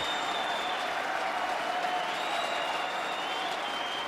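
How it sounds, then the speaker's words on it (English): A table tennis crowd at a Grand Finals match applauds and cheers loudly and continuously, a steady wash of clapping with occasional whistles rising above it. "Man, the crowd is going crazy."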